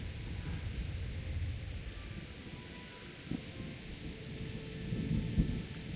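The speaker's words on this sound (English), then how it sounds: "Once again raining and thundering." Steady rain in the Kingdom Come Deliverance game, with low rumbling thunder rolling beneath it and a slight swell near the end, with no voices.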